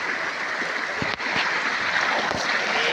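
River water rushes steadily in a wide, fairly deep natural swimming spot, a continuous close broadband wash with faint low knocks and splashes, no one talking.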